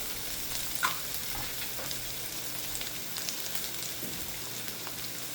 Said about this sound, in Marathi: आलं लसणाचा थोडासा कच्चापणा गेला त्याच्यात आपण घालायचे मसाले.